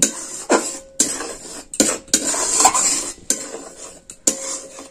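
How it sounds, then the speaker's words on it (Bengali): A spatula stirs a thick pea and rice-flour filling seasoned with cumin in a pan, giving irregular scraping strokes and metallic clinks with brief pauses between them. The sound is close and has no talk. "এটাকে আমি খুব ভালো করে নেড়ে চেড়ে একদম পুরটা শক্ত শক্তই তৈরি করে নেব।"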